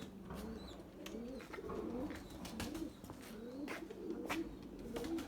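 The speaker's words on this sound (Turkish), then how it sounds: "Yavru sesleri geliyor işte arkadaşlar." Soft repeated cooing and squeaky calls from young Erzurum White pigeon chicks close by, over a steady low background hum, with occasional faint clicks.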